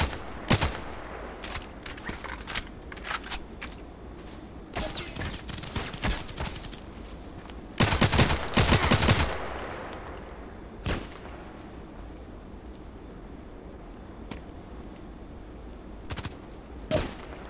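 Gunfire in the shooter game Contract Wars: scattered single shots and short bursts, with a dense, loud volley around the middle, then sparse cracks trailing off.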